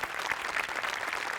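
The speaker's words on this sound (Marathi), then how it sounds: "एकदा जोरदार टाळ्या व्हायला पाहिजेत" Studio audience applause at a Marathi comedy show, a dense, even burst of clapping from many hands, held steady throughout without talk.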